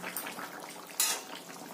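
Jackfruit and shrimp curry simmers in a pot: soft, continuous bubbling at close range, with a brief clink of a utensil against the pot partway through.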